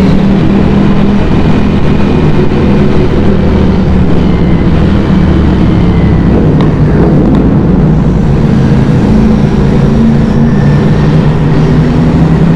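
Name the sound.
Ducati Panigale and Aprilia superbike engines sprinting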